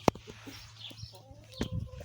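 A hen gives a few low clucks between sharp knocks and rustling, with faint background noise throughout.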